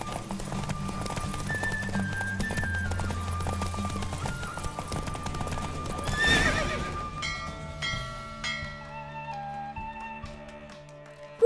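A horse in a race in the video game The Witcher 3 whinnies loudly amid clip-clopping hooves over game music, with a sharp neigh burst midway before the music carries on more quietly.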